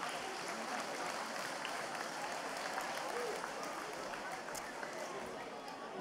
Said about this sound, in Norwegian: Gi dem en applaus.